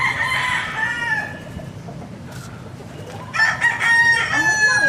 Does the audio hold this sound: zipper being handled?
no